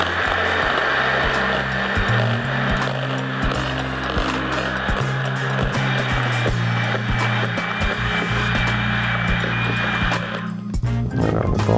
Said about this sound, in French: c'est possible au fouet à la main, mais j'ai le batteur donc je vais en profiter.